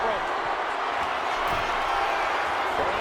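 A packed wrestling arena crowd in WWE 2K25 roars in a dense, steady wash of cheering and noise, with commentary voices talking over it.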